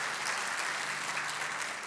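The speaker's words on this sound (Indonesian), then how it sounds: "Ya, mau tepuk tangan juga boleh" A church congregation at an online service claps for its pastors in a brief, dense burst of applause, even and moderately loud throughout.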